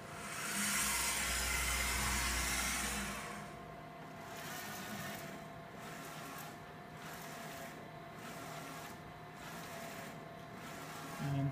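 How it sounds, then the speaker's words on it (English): A Spyder Seedex printer runs a print job, starting with a steady, faint whirring hiss that shifts to softer mechanical passes with regular swells. "as soon as I hit the print button, which I'll do with the touchscreen interface, the job's going to start."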